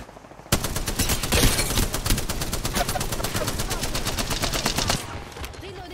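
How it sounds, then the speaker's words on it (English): Rapid, sustained automatic gunfire from the video game Apex Legends, a dense run of evenly spaced shots lasting several seconds before cutting off, loud and close with no talking over it. "We're shooting."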